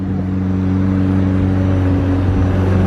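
A McLaren sports car engine idles loudly nearby at a car show with a deep, steady rumble and no voices.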